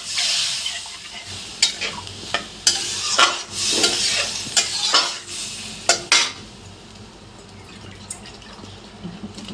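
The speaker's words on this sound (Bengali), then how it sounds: "এখন আমি এটাতে জল দিয়ে দিলাম। এটা ভাজা ভাজা হয়ে গেছিল।" Spices for a rohu fish curry, fried and then splashed with water, sizzle in a pan while a spoon stirs and scrapes with repeated clinking strokes, close and steady without speech.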